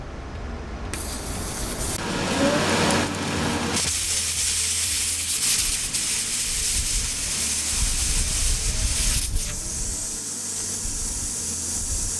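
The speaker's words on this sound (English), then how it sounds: "Using a deflator tool, I'm going to go ahead and take all the air out of the tire" A steady, broad hiss of air escaping from a car tire through a deflator tool runs for the whole stretch, loud and close, shifting slightly in tone midway with a faint rubbing texture.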